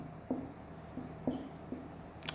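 Chalk or marker writing on a board during a grammar lecture: several soft, spaced taps and short strokes, faint and close, with no talking.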